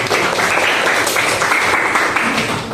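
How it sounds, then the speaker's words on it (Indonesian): Applause from a class audience after a group presentation, a loud, dense burst of clapping held evenly for the whole short stretch, with no voices standing out. "tepuk tangan semua."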